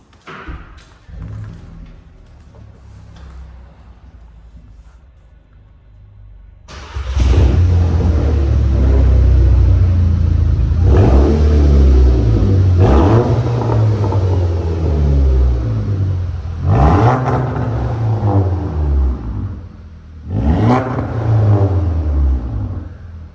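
A Volkswagen Golf 6 GTI with a full exhaust fires up after a few quiet seconds, then idles with a heavy, close rumble broken by several sharp revs that climb and fall away.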